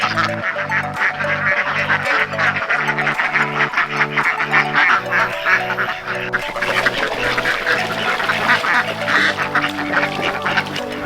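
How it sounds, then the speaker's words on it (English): A flock of ducks quacks loudly and continuously as they are let out on a homestead, dense overlapping calls filling the whole stretch with a steady, busy chorus close by. "So Selah, if you could go ahead and let the ducks out."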